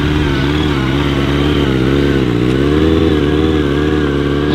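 A motorcycle engine revs hard and steadily during stunt riding with drifts and wheelies, loud and close, its droning pitch rising and dipping slightly throughout with no talking.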